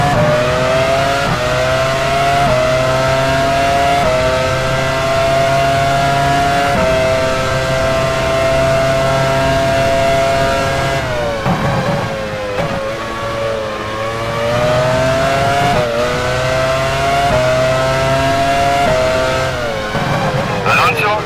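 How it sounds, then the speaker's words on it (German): Formula 1 race cars at Silverstone in the F1 Challenge 99-02 game, 2001 British Grand Prix setting: a loud, continuous high-revving engine whine with pitch climbing and dropping through gear changes, steady throughout. "Enrique Bernoldi fährt jetzt wieder aus der Boxengasse."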